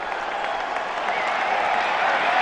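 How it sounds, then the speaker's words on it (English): A stadium crowd at a Missouri vs Nebraska college football game gives an ovation, broad sustained applause and cheering from a large crowd, swelling slightly over the few seconds. "The crowd is just now realizing it, and they're giving him an ovation"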